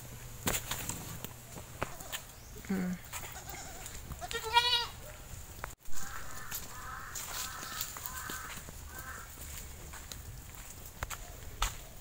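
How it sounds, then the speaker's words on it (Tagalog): Native goats on a Philippine farm bleat in a few short bursts over steady outdoor ambience, with other animal calls and rustling in the background; no talking. "So, ayan na guys, yung ating kambing."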